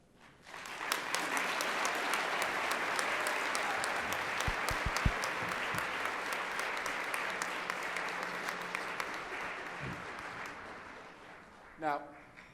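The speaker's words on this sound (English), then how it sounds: "please join me in giving a warm ERN applause for their service" A conference audience at a plenary session of the 2020 ERN Conference gives warm, steady applause. It swells quickly, holds evenly for about ten seconds, then tapers off, and a voice speaks briefly at the close.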